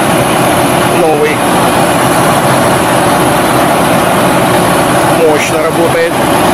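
The engine of a new Kirovets tractor runs in a close, loud, steady drone with broadband roar, while a person talks over it.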